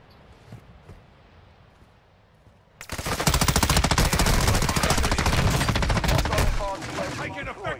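Sustained automatic gunfire erupts suddenly after a quiet stretch of ambient game sound in Call of Duty DMZ, a loud, dense rattling burst that continues for several seconds before easing slightly.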